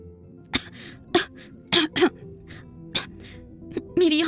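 A woman in a dramatized story coughs and clears her throat repeatedly, several short harsh bursts spaced irregularly and heard up close, with no other voices.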